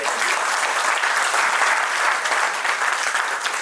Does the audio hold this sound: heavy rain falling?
no